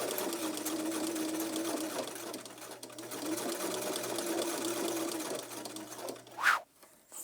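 A sewing machine stitches a fabric face mask, running steadily and fairly close for about six seconds before stopping, followed by a brief sharp clack.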